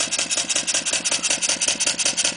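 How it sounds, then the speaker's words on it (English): A Clarkson vertical steam engine running slowly forward in full gear, giving a steady, even rhythm of quick repeated chuffs and mechanical ticks, close and continuous with no voices. "the engine's ticking away there quite nice and slowly"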